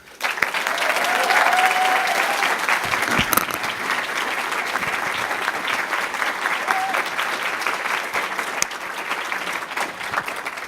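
An audience in a town hall applauds a speaker's introduction, sustained dense clapping that starts abruptly and holds steady for about ten seconds, loud and close, with a brief murmur of crowd voices mixed in.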